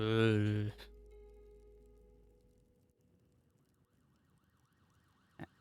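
A loud steady electronic ambulance siren tone in a video game sounds briefly, then fades to faint wailing sweeps in the background, ending with a sharp click.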